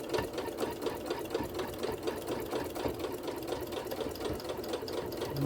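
A sewing machine stitching an oven mitt, running at a steady, fast mechanical rhythm throughout, close and clear with no talking.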